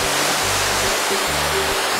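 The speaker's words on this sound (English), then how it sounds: "Did you see that waterfall, guys?" Waterfall at Twin Falls, Hawaii, heard as a steady, loud broadband rush of falling water that fills the short stretch without a break.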